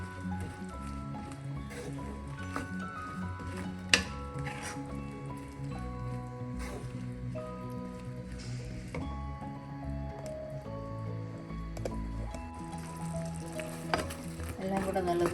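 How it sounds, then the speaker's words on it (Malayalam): Mushrooms frying in a pan as a roast is stirred, a steady soft sizzle with wet squishing and occasional scrapes, moderately quiet, with a faint voice now and then. "ഇപ്പോൾ നമുക്ക് കൂൺ ചേർക്കാം. എല്ലാം കൂടെ ഒന്ന് ഇളക്കി കൊടുക്കാം."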